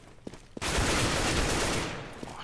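A sustained burst of automatic gunfire in Counter-Strike on the de_dust map, loud and dense, following a couple of lighter clicks and fading slightly toward the end.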